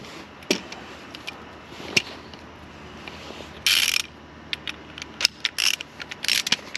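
A ratchet breaks loose the 32mm rear axle nut on a Kawasaki ZX6R motorcycle during a chain and sprocket change. Sparse close clicks give way to short, loud bursts of rapid ratcheting.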